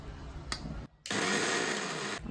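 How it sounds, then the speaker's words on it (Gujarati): A mixer grinder whirs loudly while grinding lentils with two spoons of medium-sour homemade curd. It runs briefly, stops for a moment, then starts again and holds a steady, close roar until the end. "આપણી દાળ છે ને પીસાવાની તૈયારી થઈ રહી છે"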